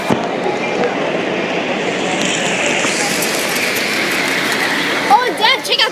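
A 22-car train, locomotive 8670, rolls past at a Fullerton Railroad Days rail event with a steady, loud rumble and clatter throughout, while a few voices and brief sounds near the end rise over the noise.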